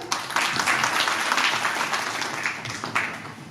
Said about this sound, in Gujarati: તો એકવાર પોતાના માટે જોરદાર તાળીઓ પાડશો.